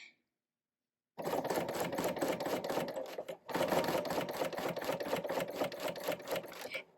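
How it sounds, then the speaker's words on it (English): A serger sewing machine runs close and loud, stitching a zipper storage pouch in a fast, steady mechanical chatter with a brief pause partway, after a near-silent start. "And I'm going to just start stitching."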